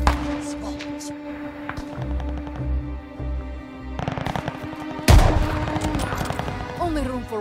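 Gunfire in a Call of Duty campaign mission at Stalingrad: rapid automatic bursts and scattered shots over a droning background, then a heavy blast near the end followed by more crackling fire, with voices briefly heard.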